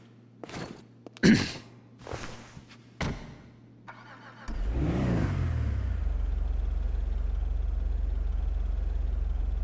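A Primo car in GTA 5 has a few sharp clunks and thumps, then its engine fires up partway through with a quick rev and settles into a steady, loud idle that runs to the end.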